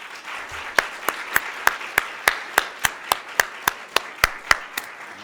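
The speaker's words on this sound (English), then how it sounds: "another round of applause for our readers and performers" Slow, evenly spaced claps ring out one after another for about five seconds, sharp and close, after readings and performances at an African American read-in event.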